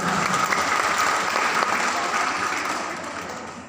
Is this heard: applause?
yes